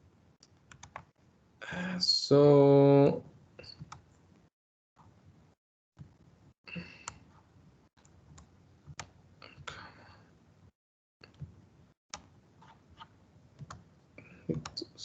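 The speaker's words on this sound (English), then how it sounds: "Now I'm selecting the text box inside and clicking here in the properties." Computer mouse and keyboard clicks during desktop software work, a scatter of sharp, close taps and clicks at irregular intervals, with brief speech and a loud tone near the start.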